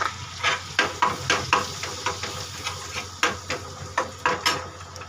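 Whole spices, cardamom among them, roasting in a pan for shahi paneer, with a steady sizzle under repeated scraping strokes of a spoon stirring in a quick, regular rhythm, close and fairly loud.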